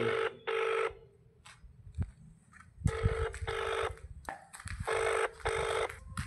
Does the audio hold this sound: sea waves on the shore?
no